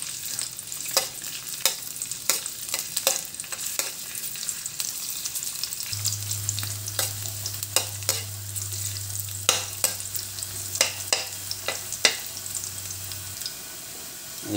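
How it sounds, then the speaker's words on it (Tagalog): Garlic and onion fry in a pan for adobo, a steady close sizzle punctuated by regular scraping stirs and a low hum through the middle stretch. "Lagyan na natin yung bawang. Saka yung sibuyas."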